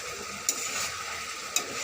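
Potatoes and spice paste with turmeric, salt and a little sugar sauté in oil, making a low, steady sizzle with two sharp clinks of a utensil against the pan.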